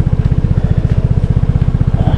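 Vespa S125 scooter engine labouring up a steep hill at a Tanay, Rizal campsite, a loud close rhythmic putter that stays steady and unbroken, with no voices over it.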